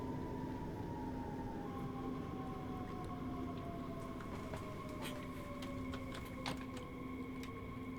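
Frankfurt S-Bahn train braking in Train Sim World 5, a steady rumbling rail hum with a long falling whine and sharp high squeals and clicks toward the end, loud and continuous with no talk.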